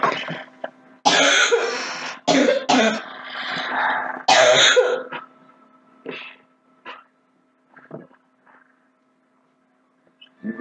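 A man coughs and clears his throat repeatedly in harsh, irregular bursts, loud and close, tapering to a few fainter coughs and breaths.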